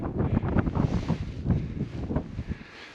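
Gusty wind buffets the microphone on an exposed winter hillside, a rough low rumble that swells and eases over a few seconds.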